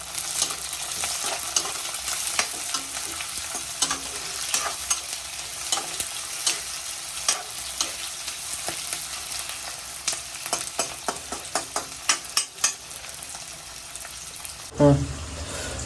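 Onions fry in hot oil while being stirred, a continuous close sizzle broken by repeated scraping and clacking strokes of a utensil, ending with a sharper knock.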